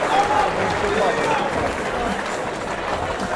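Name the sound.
crowd cheering and applauding after fight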